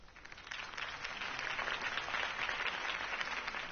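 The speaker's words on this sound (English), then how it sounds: "If only Mr. Wayne, my campaign's largest backer, could have heard that applause" Crowd applause following a campaign speech by Harvey Dent in a PS4 video game, a steady, dense wash of clapping and cheering that holds at an even level throughout, with no talk over it.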